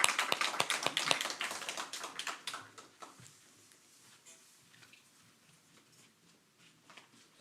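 A church congregation claps to welcome a guest pastor to the pulpit during a Sunday morning service, with a dense burst of applause for about three seconds that quickly thins out to scattered faint claps and room noise.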